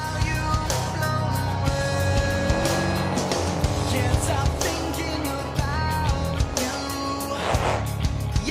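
A roaring monster truck engine in a BeamNG.drive freestyle competition at a county fairgrounds revs and surges continuously, loud and close, with throttle blips and gear changes over a steady rumble.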